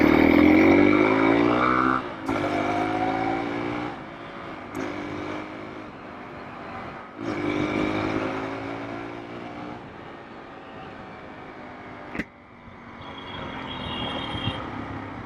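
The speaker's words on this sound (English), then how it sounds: "Damn, the exhaust sounds good." Exhaust note of a modified Hero Xpulse 200 motorcycle fitted with a rally kit, a steady loud engine drone with harmonic revs rising and dropping, brief throttle blips and pauses across the run.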